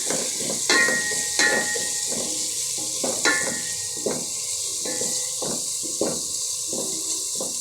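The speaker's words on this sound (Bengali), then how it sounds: "পেঁয়াজটা আসলে বেশি ভাজা যাবে না, হালকা ভাজতে হবে" Onions fry in a pan with a steady, close hiss of sizzling oil, broken by sharp scraping clacks from stirring every second or so. No one speaks.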